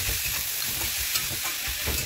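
Peanuts, diced beetroot, carrot and peas fry in hot oil for vegetable chops, a close, steady sizzling hiss with soft stirring scrapes and bumps throughout, no voices.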